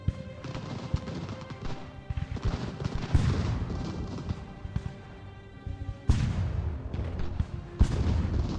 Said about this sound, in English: It looks like their cannon hit the back of our men.